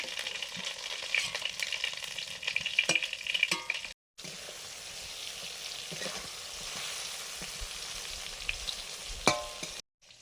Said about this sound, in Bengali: পাঁচফোড়ন এখন করছি শোল মাছের রান্নাটা আলু আর কাঁচকলা দিয়ে